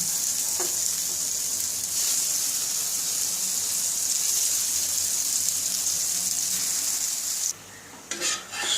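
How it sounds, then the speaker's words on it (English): Steady, bright sizzling of idlis frying in oil in a pan over a low flame, continuous for several seconds before cutting off abruptly near the end. "Now one by one the idlis have been put on the pan for frying."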